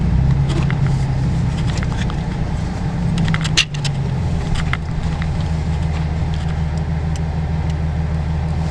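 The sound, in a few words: Nissan 370Z sports car pulling out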